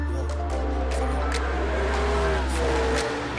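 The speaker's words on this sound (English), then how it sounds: "me driving the NASCAR for the first time" A NASCAR race car runs on the Bahrain International Circuit, a loud engine drone with shifting pitch and a brief rising rev near the end, all close and continuous.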